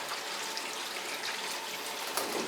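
Water pours steadily from a washing machine drain hose held wide open, a continuous close trickling splash with no voices.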